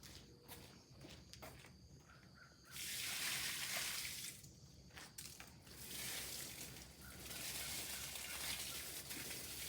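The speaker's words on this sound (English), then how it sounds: "I decided to pour some of this water that I've been using on my flowers here." Water splashing and pouring onto flowers in gushing bursts, loud and close, with brief pauses between pours and some faint clattering.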